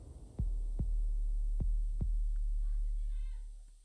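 Deep, booming heartbeat thumps from a sad beat production, four evenly spaced pulses over a steady low hum, followed by faint fluttering tones as the throbbing fades.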